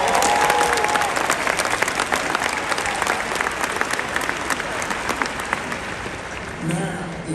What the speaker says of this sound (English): Let's give our mothers a round of applause.